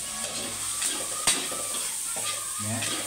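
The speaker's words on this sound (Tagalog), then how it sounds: "Haluin lang ang haluin para lalo sumarap." Pinakbet vegetables being stirred in a hot sizzling pan, a steady frying hiss broken by a sharp utensil clink against the pan and soft scraping, quiet and close.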